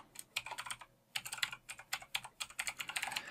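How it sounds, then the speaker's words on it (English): Quick bursts of typing on a computer keyboard, keys clicking close up in rapid irregular runs with short pauses between words, quiet and alone without talk. "now I can type in the address."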